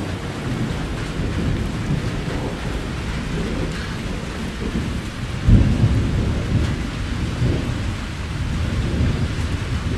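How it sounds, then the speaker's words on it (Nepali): Steady night rain pours down while thunder rolls in low, deep rumbles, swelling to a louder peak midway through and continuing alongside the constant patter. "गाडङ गुडङ गरेको सुन्नुहोस् त।"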